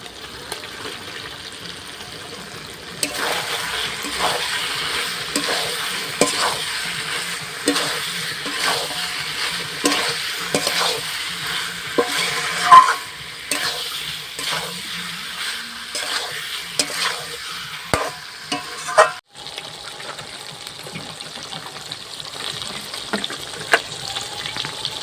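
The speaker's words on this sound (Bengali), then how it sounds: "ভাজা ব্রোকলিগুলো এবার দিয়ে দেবো।" Fried broccoli goes into a pan of braised chicken and is stirred, giving steady sizzling with repeated scraping and clattering strokes that run close and loud throughout.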